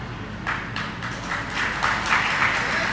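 Audience clapping during a Jain sermon by Praman Sagar Ji Maharaj, a steady patter of many hands that builds slightly and carries on for a few seconds.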